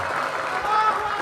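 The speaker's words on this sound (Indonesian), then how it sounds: "Boleh kasih tepuk tangan ini buat relawan Pangandaran." A crowd at a speech held at a pesantren in Ciamis applauds volunteers from Pangandaran, producing a short, dense wash of clapping and crowd noise that stays steady and loud throughout.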